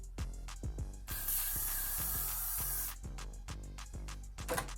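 Got2b hair spray sprayed onto a lace frontal wig, one long close hissing burst in the middle framed by short sharp taps and handling clicks before and after.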